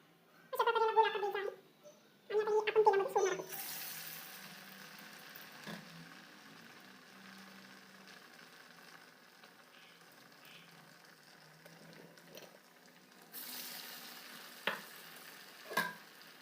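Dal vadas fry in hot oil with a faint, steady hiss and light crackle; a few short voice-like sounds come at the start and small clinks break in near the end.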